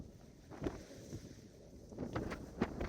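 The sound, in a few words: blustery westerly wind on rocky coast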